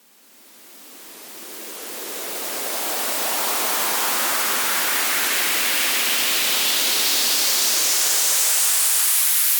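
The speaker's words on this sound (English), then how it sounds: "turn this white noise sweep into something really interesting" A synthesized white noise sweep made in Ableton Live fades in and steadily rises in pitch, growing into a loud, hissing whoosh that holds at full level.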